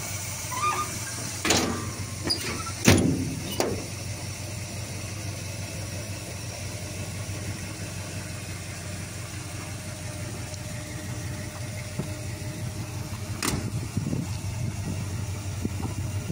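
A 1939 Ford Deluxe two-door coupe engine cranks with a few sharp clatters, then settles into a low, steady idle that runs on evenly with faint ticking.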